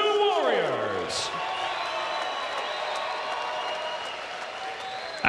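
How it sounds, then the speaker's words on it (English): Arena crowd applauding after a bare-knuckle boxing bout, a broad steady wash of clapping and cheering held for several seconds under a loud descending tonal sweep and lingering ringing tones. "let's have a round of applause for these 2 warriors"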